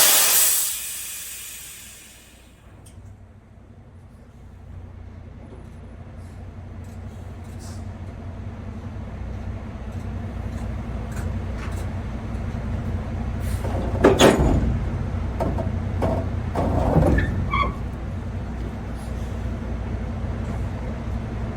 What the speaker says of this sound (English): I'll start moving the trailer back and forth